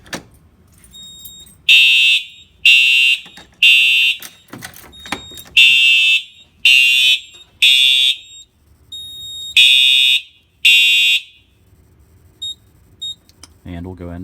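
A building fire alarm sounds during a basement system test after a manual pull station is pulled, giving loud, evenly spaced electronic horn blasts, about eight in all, with short pauses between them and a brief voice near the end.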